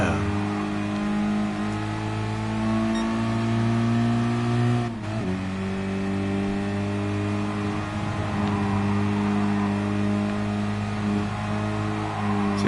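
Mazda Roadster engine in Gran Turismo Sport, droning steadily at high revs with a brief dip in pitch as the gear shifts, then climbing again, loud and continuous without speech.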